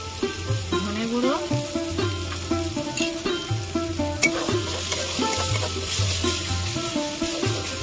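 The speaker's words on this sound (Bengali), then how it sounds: "সবকিছু দিয়ে ভালো করে কষিয়ে নিয়েছি।" Turmeric, cumin and coriander powders sautéed and stirred in a pan, with a continuous close sizzle of frying under repeated rhythmic scraping strokes of the spoon, and no speech.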